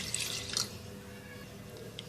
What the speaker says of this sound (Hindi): हस्बे ज़रूरत पानी शामिल करेंगे